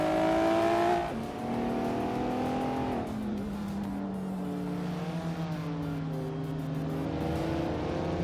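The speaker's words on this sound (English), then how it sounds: "Chris Gopher is driving a 1993 Lancia Delta HF Integral." A 1993 Lancia Delta HF Integrale race car in a video game drones steadily, its engine pitch dropping as it eases off, then holding a sustained, even hum with no talk.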